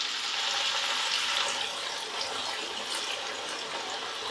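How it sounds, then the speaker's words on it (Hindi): Raw potato slices frying in hot oil over a low-medium flame for a snack, a steady, loud, hissing sizzle that holds evenly throughout with no talking. "तो फ्रेंड्स इसी तरीके से मैं बाकी आलू भी फ्राई कर लूँगी।"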